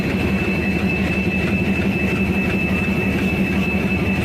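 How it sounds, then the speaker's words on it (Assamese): A train locomotive draws up to be coupled during an engine change on the Nagaland Express between Golaghat and Dibrugarh. It gives a steady, loud low rumble with a sustained high whine, and no one speaks. "ইঞ্জিনটো আহি পাই গৈছোহি আমাৰ ওচৰত"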